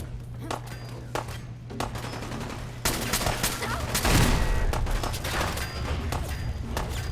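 Gunfire in the Fallout 4 video game, a string of sharp shots and bursts cracking through a steady in-game hum, with a heavier thud partway through and some speech in the mix.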